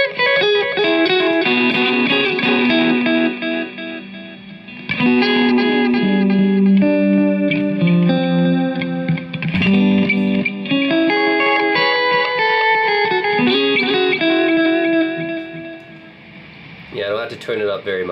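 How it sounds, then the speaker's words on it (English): Electric guitar played through a delay pedal in tape-echo mode, heard in a shootout with the Keeley Caverns, Maxon AD9 and Catalinbread Belle Epoch; sustained chords and notes trail into dense, smeared repeats that fill the whole stretch at steady volume. "if I use it with tape echo, I mean, already, I don't even have to turn it up very much for you guys to hear the craziness"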